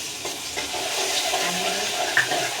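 Green chili and garlic sizzling in hot oil in a pan, a continuous bright hissing fry with small pops and stirring, close and steady with no talk.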